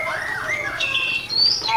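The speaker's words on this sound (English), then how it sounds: "We have birds in cages that are pretty noisy fellas." Shrill squawks and calls from caged birds at a rice warehouse ring out over a steady background, a short burst of harsh, repeated cries.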